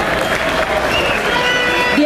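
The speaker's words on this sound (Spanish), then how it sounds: "Fuerte el aplauso para recibirlos" A large carnival crowd in Veracruz applauding and cheering continuously, with a loud amplified voice speaking over the noise.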